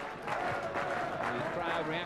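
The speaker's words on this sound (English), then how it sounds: "The crowd reacting with the slow hand clap." A football crowd at a 1981 Division 3 match between Bristol City and Preston gives a slow, evenly spaced hand clap, heard from a distance while a commentator talks over it.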